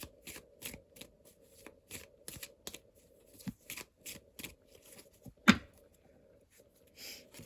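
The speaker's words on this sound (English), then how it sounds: "Let's take some Kipper cards and we wrap this reading up" Kipper cards are shuffled during a card reading: a run of short, papery riffling bursts with brief pauses, one sharper snap near the end, close and clear with no talking.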